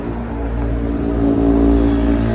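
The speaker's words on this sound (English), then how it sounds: "Noisy motorbike." A loud motorbike engine roars close by, building slightly as it passes, alone without voices.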